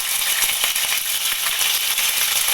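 Mustard seeds and then curry leaves dropped into two spoons of hot oil in a pan, giving a steady, dense sizzle with faint crackling pops throughout, close and with no talking.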